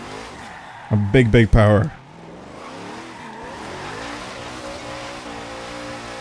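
A Hoonigan car in a racing video game roars as the throttle opens, a short loud burst of engine revving and screeching tires, then settles into a lower running drone while someone talks over it.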